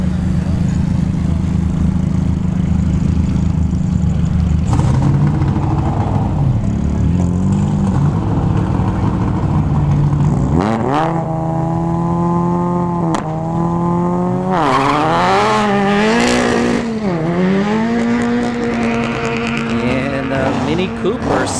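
At a dragstrip, a Mini Cooper and a Pinto, both four-cylinder cars, launch in a drag race with tires spinning. Loud engines rev and climb through gear changes over a steady roar, with a commentator talking throughout.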